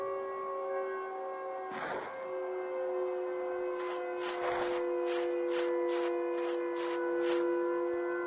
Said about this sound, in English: Is that a warning siren?